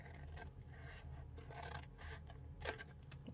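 Scissors cut along a scored line to remove a piece, a soft close rasping and snipping, very quiet and steady with a brief sharper cut near the end.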